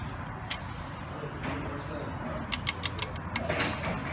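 A torque wrench set to 19 foot-pounds is tightened during an oil change on a 2006 Chevrolet Colorado, giving a run of sharp mechanical clicks in quick succession over faint background noise.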